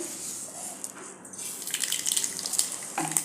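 Mustard seeds spluttering in hot oil while tempering a Marathi varan dal, a faint fizzing with scattered tiny pops that grow busier toward the end.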